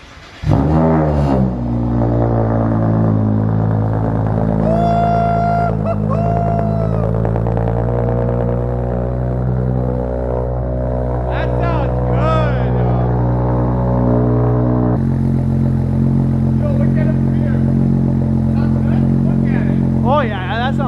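BMW N54 engine revving through a custom 4-inch Vibrant muffler exhaust, loud and close, with a deep steady drone that rises and falls through several throttle blips.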